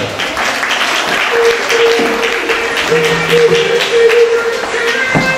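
Audience at the Miss Oise 2019 pageant applauding the candidates, loud continuous clapping close by, with music tones sounding faintly beneath.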